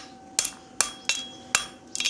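A blacksmith's hammer strikes steel held in tongs, five bright ringing blows at an uneven, fairly quick pace, close and loud against a quiet background.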